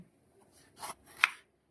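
Capsicum being chopped finely with a knife for a Spanish omelette, giving two short, close cutting bursts on a board, the second sharper, with no talk.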